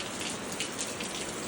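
Steady rain falling outdoors on a wet day, a dense, even patter of drops hitting surfaces nearby, with no voices.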